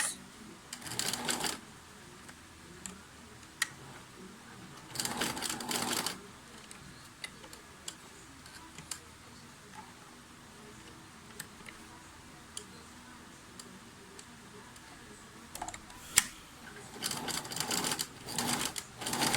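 A sewing machine stitches along the edge of a jean-style sleeve in several separate bursts, close by, with quiet gaps and a few clicks between runs.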